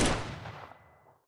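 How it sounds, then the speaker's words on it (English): A single sniper gunshot from the video game Arknights cracks sharply and loudly at the start, then its echoing tail fades steadily over about a second. "A gunshot? It's that sniper again."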